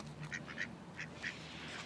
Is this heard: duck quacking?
yes